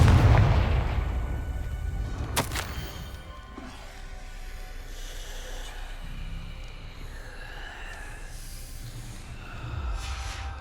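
In the Hogwarts Legacy video game, a Confringo explosion spell goes off with a deep, booming blast at the start and a sharp crack shortly after, followed by a low rumbling tail and scattered game effects.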